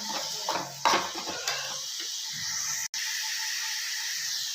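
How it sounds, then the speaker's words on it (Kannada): Onions fry in a pan with a steady, close sizzle, while a spoon stirs and clinks against the metal a few times early on. "ಸ್ವಲ್ಪ ಈರುಳ್ಳಿ ಕಲರ್ ಚೇಂಜ್ ಆಗುತ್ತೆ ಚೆನ್ನಾಗಿ ಹುರ್ಕೊಳ್ಳೋಣ"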